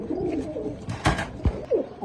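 A pigeon gives soft low coos nearby amid rustling and a few sharp bumps.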